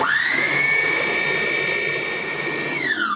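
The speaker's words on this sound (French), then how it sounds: "n'hésitez pas à mettre des petits coups de lame avec votre robot" A food processor whirs at a steady high pitch as it works crêpe batter, loud and even for about three seconds before the motor winds down.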